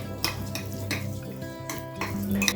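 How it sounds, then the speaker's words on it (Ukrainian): Clattering and scraping of a spoon against a bowl as potatoes are stirred with oil, with irregular knocks and a soft wet tumbling underneath. "І все гарно перемішуємо"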